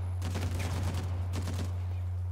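Uncharted: The Lost Legacy gunfight with two quick bursts of automatic gunfire, sharp cracking shots in rapid succession with a short pause between, over a steady low hum.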